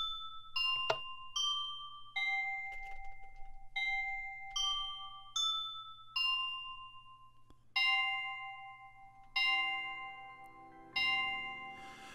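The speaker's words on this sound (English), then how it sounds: "The official name is the Westminster Chime, otherwise known as the Big Ben Chime" Westminster chime picked out on Minecraft noteblocks, a sequence of clear bell-like plucked notes in groups of four, each decaying quickly, with a low steady hum beneath and no talk.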